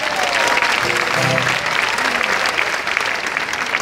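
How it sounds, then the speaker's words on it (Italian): An audience in a crowded town square applauds steadily for several seconds, a dense wash of clapping with a faint voice briefly underneath. "Fatemi un applauso."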